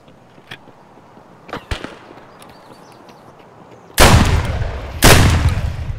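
Gunshots in Escape From Tarkov, first a few sharp distant cracks, then two loud close blasts about a second apart, each with a long rolling echo tail.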